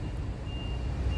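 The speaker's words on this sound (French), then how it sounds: "Et là, le bus." A bus reversing in a street, its backup alarm sounding as a steady high tone over a constant low engine rumble and traffic noise, close and moderately loud.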